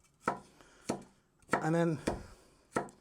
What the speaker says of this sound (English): So I'm just going to chop this into 3 pieces.